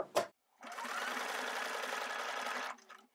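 A domestic sewing machine runs steadily through microsuede fabric for about two seconds of continuous whirring stitching, following a brief thump and ending with a short slowdown, close up and loud.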